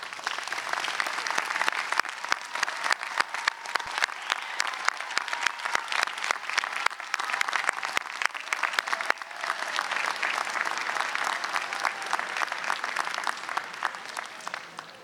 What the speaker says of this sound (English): please stand and offer them a standing ovation round of applause